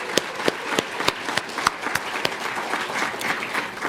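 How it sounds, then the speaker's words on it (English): An audience at a morning research and clinical session claps steadily throughout, with individual sharp claps standing out over a dense, continuous wash of applause. "let's give one last round of applause for all of our presenters this morning"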